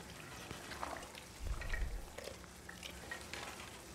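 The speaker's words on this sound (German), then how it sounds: "Okay, er kocht." A character cooking food in the Mafia III video game: soft frying and stirring noises with a sizzle, a low thump near the middle and scattered light clinks, with no talk.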